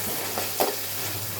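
Fresh shelled green peas fry with onions in a pan, giving a steady close sizzle with a brief scraping stir in the middle.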